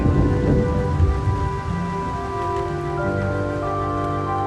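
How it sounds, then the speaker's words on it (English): Rain squalls on a November morning in 1910 pour down as loud, steady rain with low rumbling thunder, continuous throughout and mixed with sustained musical tones, with no talking. "On the morning of November 14th, 1910, rain squalls filled the sky."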